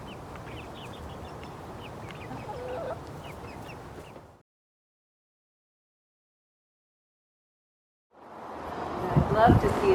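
Hens at an animal sanctuary clucking and chattering while eating mealworms, close by over outdoor background noise, with a gap of silence midway before the flock sound returns louder.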